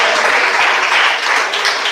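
A church congregation claps loudly together, a thick continuous burst of applause with a slight dip midway before swelling again.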